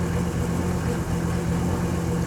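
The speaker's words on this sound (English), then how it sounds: "I'm listening to this engine run" A Mercedes W126 300SD diesel engine, restarted after sitting about ten years, runs steadily at idle, a constant low droning hum with a slightly uneven pulse, close by and without speech.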